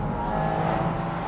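A 2024 Porsche 718 Spyder RS with its flat-six engine revving, a dense, steady mechanical roar with a sustained high harmonic whine, close and loud without pause.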